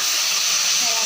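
Whole spices, including panch phoron, dried red chilli and fennel, hit hot oil poured over olive chutney with a brief, loud, close hiss and sizzle.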